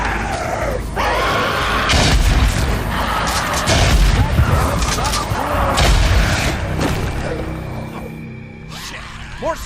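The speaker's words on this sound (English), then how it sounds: "the player can use Molotovs to destroy them" A freaker nest in Days Gone burns after a Molotov hits it, giving a loud, roaring rush of fire with heavy booming rumbles, screeching creature cries and shouts mixed in. The noise fades toward the end.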